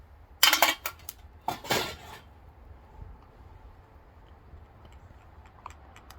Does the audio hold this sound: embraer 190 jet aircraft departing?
no